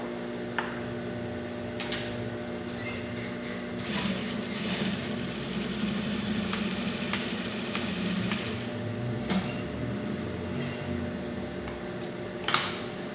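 A fast industrial sewing machine runs a straight seam through fabric, its steady mechanical drone and needle rattle continuing close and loud with brief pauses and clicks, and no one speaking.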